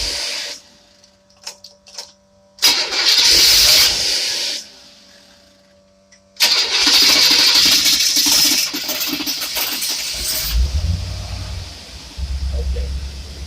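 Engine fitted with twin AFB carburetors, worked by a remote accelerator: loud broadband roar bursts in, drops away, then catches and runs steadily with hissing intake and a low rumble, near and without talk.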